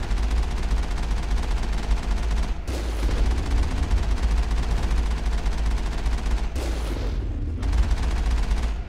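Sustained automatic gunfire roars at a dropship during a Geth outpost assault in Mass Effect 1, a dense continuous rattle with a deep low rumble, briefly cutting out twice before resuming loud and close.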